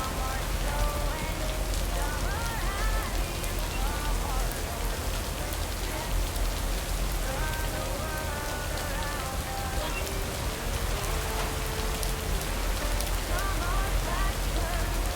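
Steady rain pours down throughout a video game scene, a dense continuous patter with soft melodic game music tones layered over it and no pauses.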